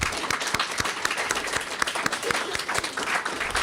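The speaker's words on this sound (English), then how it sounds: "I'm going to have to give an applause to Heather" Steady applause fills an award ceremony, a room of hands clapping with sharp individual claps standing out over a dense, continuous patter throughout.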